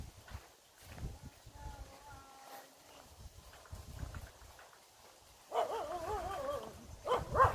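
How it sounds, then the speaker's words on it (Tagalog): A dog barks and yelps in a short burst near the end, after people chatting quietly nearby. "Aso."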